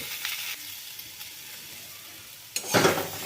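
Drumstick vegetable pieces sizzling in a hot wok while being stirred now and then, a soft steady fry with light scraping touches and a louder burst of sizzle near the end.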